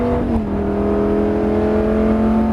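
Race car on the Nogaro circuit at full throttle, a loud steady close engine drone with a strong humming tone that holds pitch for a couple of seconds, no speech.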